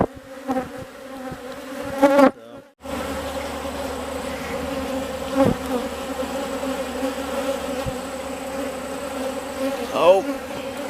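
Honey bees buzzing on swarm comb, a close, continuous insect hum with individual wingbeats flaring in and out, briefly cut by a short gap; no talk.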